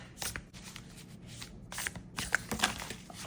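A new, slippery deck of playing cards being shuffled, giving repeated quick riffling flurries and soft card slaps in an irregular rhythm, close and fairly quiet with no talk.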